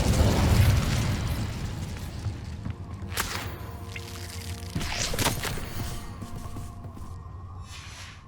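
Incendio fire spell cast in Hogwarts Legacy, a whooshing fiery burst followed by sharp crackling pops and blasts, with a rumbling low roar fading away underneath.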